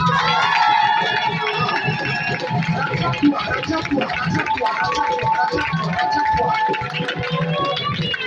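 A church congregation at a gospel service cheers and acclaims, a dense crowd din of voices and shouts that stays steady and loud from start to finish.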